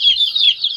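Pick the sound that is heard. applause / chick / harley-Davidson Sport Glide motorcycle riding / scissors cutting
chick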